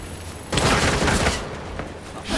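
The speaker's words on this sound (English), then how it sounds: "Don't you dare shoot at me again." A loud, close burst of gunfire in Gotham Knights erupts after a quiet moment, a dense rattling volley that tails off into a rumbling game soundscape.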